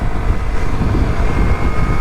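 A motorcycle cruising at around 60 to 70 with the helmet visor shut, heard from a helmet-mounted mic: a steady, dense low rumble of engine and muffled wind buffeting, continuous and loud without talk.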